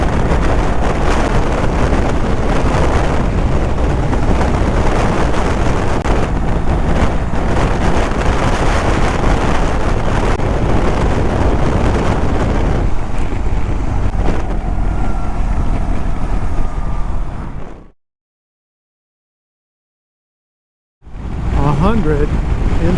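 BMW 1300GS motorcycle cruising at about 100 in a crosswind with the windscreen fully raised, loud steady wind roar and engine drone buffeting the microphone, cutting to silence near the end before resuming.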